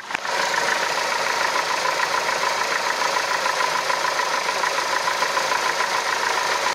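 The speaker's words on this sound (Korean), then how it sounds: "엔진 소리 한번 들어볼게요" Renault Samsung SM5 Platinum midsize sedan running on LPG, idling with the hood open: a steady, even engine hum that stays constant throughout, with no one talking.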